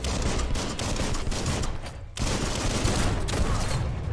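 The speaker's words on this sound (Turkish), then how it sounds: "Silah da sıkıyorlar ha." Rapid, dense gunfire rattles without pause in the video game Biomutant, a loud fusillade of overlapping shots that drops out for a split second and then resumes just as intensely.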